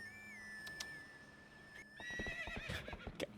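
A horse in a Zelda randomizer video game lets out a high, wavering whinny, followed by a burst of quick clip-clop hoofbeats and game effects, fairly faint overall.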